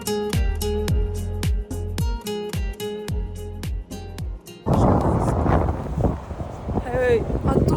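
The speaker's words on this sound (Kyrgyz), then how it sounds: "катуу шамал болуп жатат" Strong wind blows outdoors in Moscow, first under rhythmic music and then as a loud, rough gusting roar buffeting the microphone, with people talking.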